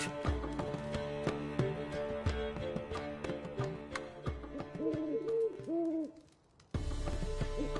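A bird in The Witcher 3: Wild Hunt gives a few soft, rising and falling hoots over a continuous in-game ambient music bed, which briefly drops out before returning.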